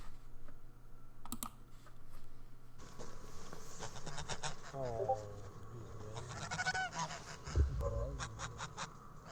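Geese honk intermittently in a noisy setting, with short harsh calls in the middle and later section, along with clicking sounds and background noise.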